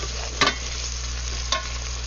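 Bouillon simmering in a pot of water for pasta fagioli, a steady soft bubbling hiss with two brief louder clinks or stirring bumps, no talking.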